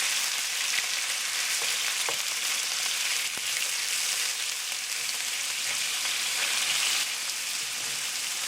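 Beef with ground ginger hits a hot pan and fries with a loud, continuous, crackling sizzle, close and unbroken throughout, with no talking.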